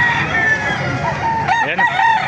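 Roosters crow loudly and close by at a busy chicken market in Baliuag, Bulacan, one long cock-a-doodle-doo rising over a murmur of clucking fowl and background voices.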